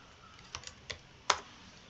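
A handful of light, quick keystrokes tap on a computer keyboard in a quiet room, four or five soft clicks spaced unevenly across two seconds.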